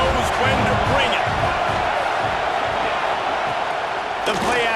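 A stadium crowd in a college football video game roars loudly and continuously, a dense wash of cheering with a sharper swell near the end.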